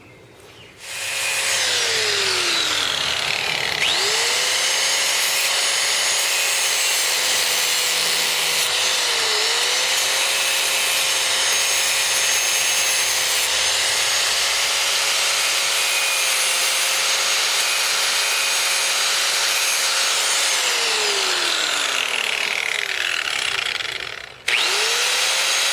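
A power grinder cuts the rough edge off a Honda CB750 motorcycle frame, spinning up, then holding a loud, steady whine with a harsh abrasive hiss for about twenty seconds before winding down, one brief dip midway.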